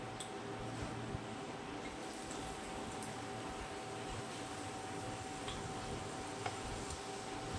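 Chopped onions frying in hot oil for biryani, a steady soft sizzle with faint crackles and occasional ticks, quiet and continuous.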